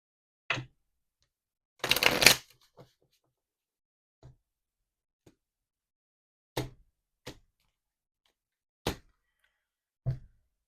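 Tarot timing cards are shuffled: a short, crisp riffle burst in a quiet room, surrounded by scattered soft taps and light clicks of cards being handled and set down.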